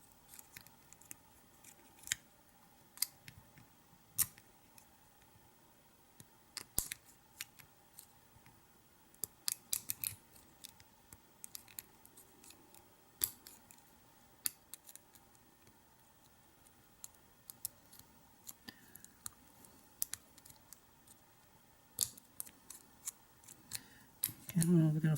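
Lock picking on an American 600 single pinned padlock: faint, sparse metallic ticks and clicks scattered irregularly over a quiet background, with a slightly louder rattle at the end.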